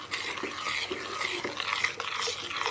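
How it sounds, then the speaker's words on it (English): A spoon stirs sweet potato dahl in a cooking pot, giving soft, faint, repeated scraping and squelching strokes at a steady rhythm, with no talk. "if you stir that round and bring that up to the boil again"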